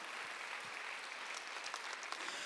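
Church congregation clapping during a Sunday worship service, a steady faint wash of many hands continuing evenly throughout with no speech over it.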